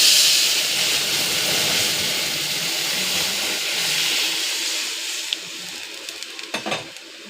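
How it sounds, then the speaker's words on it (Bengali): Dal poured into a pan of hot fried tempering sizzles loudly and steadily, a dense hissing fry that gradually settles, followed near the end by a few sharp clinks and scrapes of a utensil against the pot. "এবার আমি ডালটা ঢেলে দেবো।"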